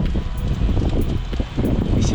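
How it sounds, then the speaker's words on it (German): Headwind buffets a cyclist on a road during a 300 km brevet, a loud, rumbling gusty roar against the microphone that pulses unevenly throughout. "Und der Wind kommt hier auch von vorne"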